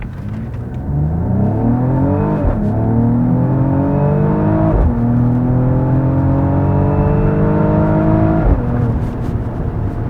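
A Mercedes-AMG GLE 53 4MATIC+ SUV accelerating hard from standstill, its engine note climbing loud and steady through several gear changes with brief dips at each shift, heard close from inside.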